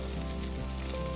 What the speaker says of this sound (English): You hear that beautiful sizzle and smell that irresistible aroma.